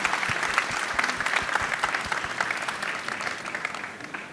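An audience applauds panelists at an entrepreneurship conference session, a steady patter of many hands clapping at moderate volume that gradually thins toward the end.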